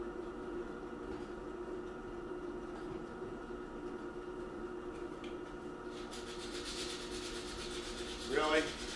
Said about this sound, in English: You want me to zoom in on the sanding?